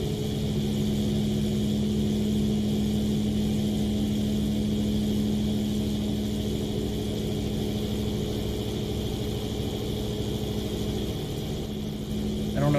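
Engines of the LZ129 Hindenburg airship in MSFS 2020, one of them shut off, drone steadily as a low, continuous hum with a strong tonal line, loud and unbroken throughout.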